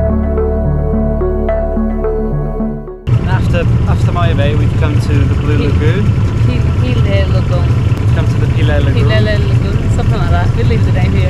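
A boat engine near the Phi Phi Islands roars loudly and steadily after a sudden start, a constant heavy drone with people talking over it.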